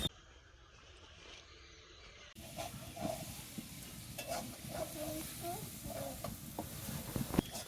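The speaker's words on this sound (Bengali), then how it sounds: "আলুটা ভাজছি আলুটা কেটে রাখছিলাম ধুয়ে রাখছি" Cut potatoes frying in a pan in a home kitchen, a sizzle that grows louder partway through, with scraping stirs and a few utensil knocks heard up close.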